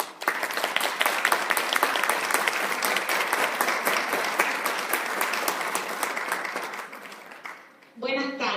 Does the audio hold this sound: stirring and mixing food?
no